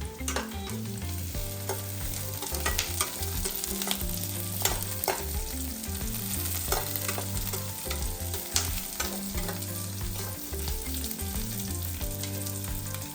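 Green chillies with cashews fry in oil in a pan for a bottle gourd kofta gravy, giving a continuous close sizzle with frequent scraping stirs and no talking.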